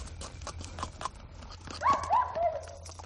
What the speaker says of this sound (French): Je reconnais, c'est Falstaff, le cheval de Madame Hersan.